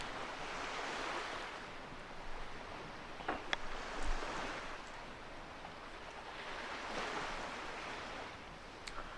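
Ocean waves wash in the video game Wind Waker, soft surges that swell and fade under a constant breezy hiss, with a few faint chimes and no talking.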